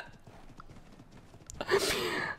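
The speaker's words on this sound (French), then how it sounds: "Et ça, c'est de la balade en poney." Pony hooves clip-clop in the medieval ARK video game, a quick run of faint, soft steps followed by a louder burst of rustling movement, with brief talk in the background.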